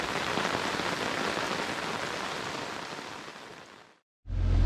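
Steady rain pours onto the ground outdoors near Copper Harbor and High Rock Bay in Michigan's Upper Peninsula, a dense, even hiss that fades and cuts off briefly before returning loudly.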